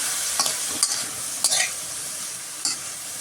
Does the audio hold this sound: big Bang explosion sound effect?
no